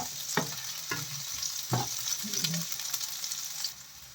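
Chopped onion frying in oil in a pan for a sardine dish, a steady sizzle broken by several sharp clicks and scrapes of stirring, close and with no voices.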